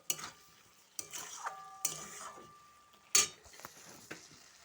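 Snail meat is stir-fried in a pan: several scraping spatula strokes and metallic clinks over a low sizzle, close and fairly quiet, with one sharper knock near the end.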